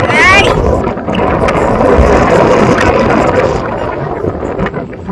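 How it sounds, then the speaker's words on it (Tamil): Strong wind at Nandi Hills buffeting the microphone, a loud, steady roaring rumble that eases slightly near the end, with a person's voice briefly audible at the start. "இப்படிதான் காத்து அடிக்குது"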